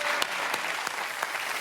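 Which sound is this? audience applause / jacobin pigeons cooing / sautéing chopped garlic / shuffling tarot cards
audience applause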